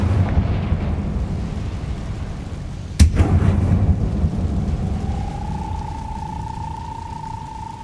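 Confringo fire spell in Hogwarts Legacy, a single sharp blast midway through a low rumbling backdrop, followed by a rising tonal whine that lingers to the end.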